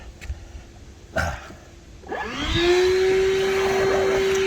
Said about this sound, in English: Forgot, I never switched it from the blower side.